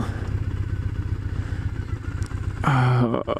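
A Triumph Thruxton motorcycle is ridden on city streets, its engine a steady close rumble with a sudden rising rev near the end, heard from the rider's position with wind noise.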